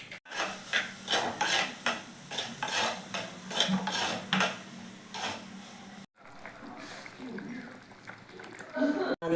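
Vegetables for an Akashavellari theeyal curry are sautéed in a pot, heard as repeated scraping stirs and a soft sizzle close by. A person talks over the cooking.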